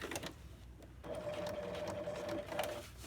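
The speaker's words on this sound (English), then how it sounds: "now I'm going to go back down to get that double stitch look" A sewing machine runs a second line of stitching back down an existing seam on a fly, starting after a short pause and then whirring steadily at close range with a few light mechanical taps.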